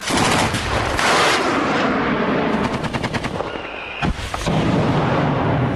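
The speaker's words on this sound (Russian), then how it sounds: "По крылу бьют из зенитной установки, из пулеметов." Loud, rapid bursts of heavy gunfire at drones, a deep cannon-like thumping from a ZU-23-2 anti-aircraft gun mixed with chattering machine-gun bursts, continuous and close.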